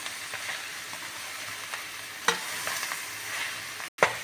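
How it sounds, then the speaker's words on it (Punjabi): Spices being stirred into moringa leaf, moringa flower and red amaranth sabzi in a kadai: steady scraping stirs over a soft, continuous sizzle, with one sharper scrape partway through and no talking. "ਸਾਰੇ ਮਸਾਲੇ ਨੂੰ ਚੰਗੀ ਤਰ੍ਹਾਂ ਆਪਾਂ ਮਿਕਸ ਕਰ ਦਾਂਗੇ"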